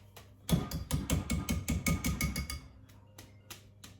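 Whisk rapped sharply against the rim of a bowl to knock off excess mousse-like sponge-finger batter, about a dozen quick, loud, close taps in a steady rhythm, then a few sparser knocks.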